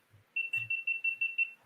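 A new GoPro camera beeps in a steady run of about seven short, evenly spaced high-pitched tones, close and clear, with no talking.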